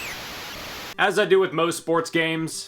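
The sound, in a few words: static as crowd cheering in NES baseball video game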